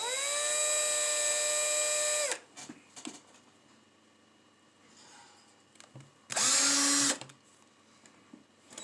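A power drill reopening a hole on a 1967 Impala whines at high speed for about two seconds, goes quiet apart from faint handling noises, then spins up again for a shorter burst.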